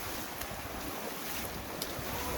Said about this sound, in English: We found a waterfall already.